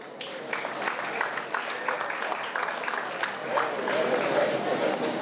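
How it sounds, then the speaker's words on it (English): Audience applause at a legislative caucus ceremony honoring community heroes, a moderate crowd clapping steadily for several seconds and swelling slightly toward the end. "Let's give another round of applause there."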